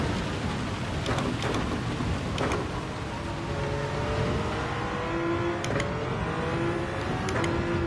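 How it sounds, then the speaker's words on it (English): Heavy rain drums steadily on a car while driving in Gran Turismo 7, with engine drone underneath and occasional sharp clicks and ticks; continuous and fairly loud throughout. "Oh, raining quite heavy."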